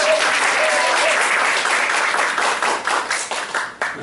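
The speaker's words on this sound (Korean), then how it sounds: "박수로 환영하겠습니다" A church congregation applauds to welcome a returning guest at a Sunday worship service. The clapping is dense and steady, then thins into scattered, fading claps. A few voices can be heard faintly beneath it.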